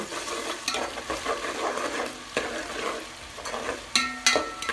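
Chopped garlic and green chillies crackle in oil while being stirred in a pan, an uneven sizzle broken by sharp spatula scrapes and knocks, a few louder near the end.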